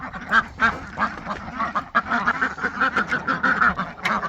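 Ducks quack in a busy, rhythmic chorus close by in a barn, steady and overlapping throughout with no talk.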